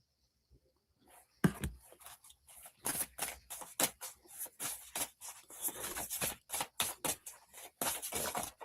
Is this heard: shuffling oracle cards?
yes